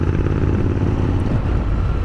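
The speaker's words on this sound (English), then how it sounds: "if I don't want to rev it that hard and I want to do cruising, I can still enjoy this exhaust like this" A motorcycle fitted with an AEW 102 aftermarket exhaust cruises at steady, moderate revs, a continuous close engine drone with no sharp throttle blips.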